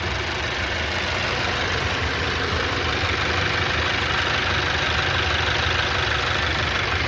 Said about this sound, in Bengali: ইঞ্জিন স্টার্ট হচ্ছে, কিন্তু টাইমিং চেঞ্জ করেছি, ইঞ্জিনের সাউন্ড একদম খুব সুন্দর চলে এসছে